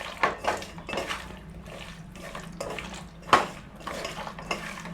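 Chicken 65 marinade being mixed by hand in a bowl, a series of wet squelching pushes and soft clinks repeating about once a second, close and moderately quiet.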